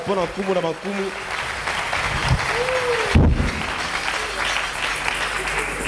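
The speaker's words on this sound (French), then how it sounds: "Acclamons très fort pour le roi des rois." A church congregation claps loudly together, a dense sustained wash of applause that swells and continues under a preacher's raised voice.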